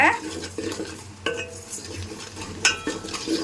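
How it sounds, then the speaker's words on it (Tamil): A spoon scrapes and clinks against a pan while spices fry on a low flame with a soft sizzle, for a taro root curry, with a few sharp metallic taps along the way. "லோ ஃப்ளேமில் வச்சு அப்படியே 2 நிமிஷத்துக்கு அப்படியே வதவிட்டே இருங்க."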